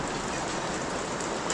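Rain falls steadily on a leaking house, a dense, even patter of drops with no break, fairly faint and heard alone.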